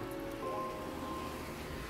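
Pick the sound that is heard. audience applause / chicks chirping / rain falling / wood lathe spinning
rain falling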